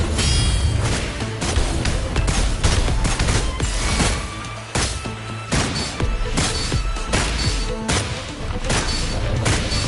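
Gunfire erupts in the action game Wuthering Waves as rapid, dense volleys of close, loud shots with booming impacts under a driving game soundtrack, continuous for the whole stretch.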